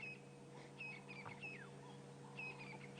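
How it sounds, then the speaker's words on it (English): Several birds chirp and whistle together in a faint dawn chorus on a safari reserve, soft overlapping distant bursts over a low steady hum. "You can hear the dawn chorus, all the birds starting to wake up."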